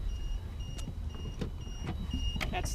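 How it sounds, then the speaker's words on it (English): Short electronic beeps repeat at regular intervals from a Ridekick power trailer's automatic turn-off feature, thin and clear above a low, steady background rumble. "So that we heard some beeping, and that was an automatic turn-off feature."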